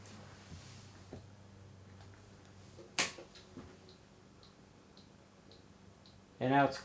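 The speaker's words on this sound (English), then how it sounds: "And now it's clicking." A Glory SR600 cash register with a suspected electrical short gives off a few faint, sparse clicks amid a quiet room, ending in a brief louder burst of clattering.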